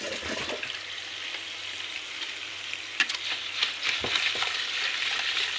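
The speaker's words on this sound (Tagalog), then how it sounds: "Luto ako ng chicken curry" Chicken curry frying in a pan gives a steady, close hiss and sizzle, with a few louder crackles and stirring bursts.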